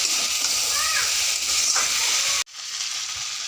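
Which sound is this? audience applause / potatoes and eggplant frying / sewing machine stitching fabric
potatoes and eggplant frying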